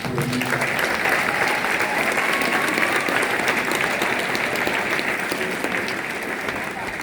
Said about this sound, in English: We'll give them a nice round of applause for supporting you.